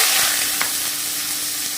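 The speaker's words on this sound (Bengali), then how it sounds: "আমি এবারে পনিরটা ভেজে নিচ্ছি" Paneer fries in hot oil in a pan, giving a loud, close, continuous sizzle and crackle with no voices.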